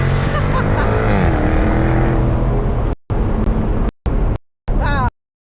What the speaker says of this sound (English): When you manually shift it, it does those very silly farty noises.